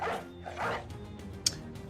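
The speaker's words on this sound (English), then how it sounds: "Release the dogs." Dogs barking in the video game Battle Brothers, two or three muffled barks near the start, then a short sharp click, quiet and set against low game ambience.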